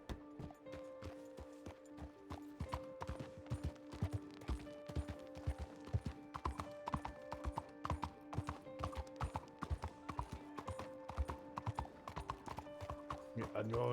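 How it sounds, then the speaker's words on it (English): Horse hooves clip-clop in a steady, rapid rhythm in the Red Dead roleplay game, running throughout under people talking, with some faint mechanical tones in the background. "What are you doing over here, you stupid horse?"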